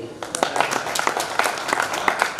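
Audience clapping in a lively burst, fairly close, with distinct individual claps at an uneven rhythm over a steady patter, a voice faintly present underneath.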